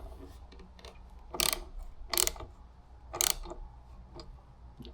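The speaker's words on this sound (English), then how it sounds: "now it's getting to the tapered part that's going to cut the threads for the outside of this" A thread tap being turned by hand into a stripped engine part, giving three louder scraping, ratcheting bursts about a second apart among fainter clicks, close and alone.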